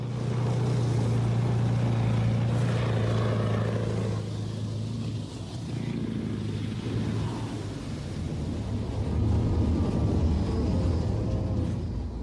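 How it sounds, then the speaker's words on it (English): A Warrior armoured personnel carrier with a Rolls-Royce Perkins V8 engine drones loudly and steadily, a deep mechanical rumble that dips briefly midway and then swells again. "Its powerful Rolls-Royce Perkins V8 engine gives it a top speed of 65 kilometers an hour."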